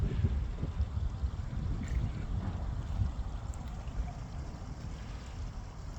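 An SB Panters bait boat cruises across open water, giving off a steady low motor rumble mixed with a soft wash of water that runs without pause and with no voices.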